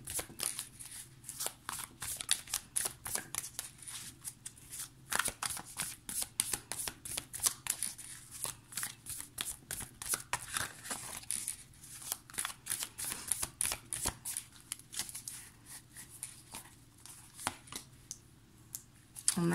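The Light Seers Tarot deck is shuffled by hand in rapid bursts of crisp card riffles and slaps, a near, busy clicking that pauses briefly between runs, with no talk over it.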